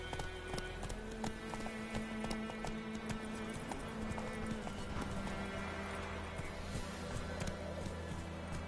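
Geralt's horse Roach gallops in The Witcher 3, with rapid hoofbeats, an occasional whinny and game ambience filling the whole stretch; little or no talk.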